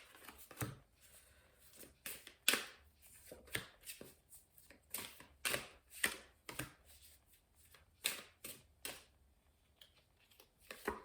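Tarot cards are dealt and laid one by one onto a table, making a quiet, irregular series of crisp slaps and snaps close by, with no voice.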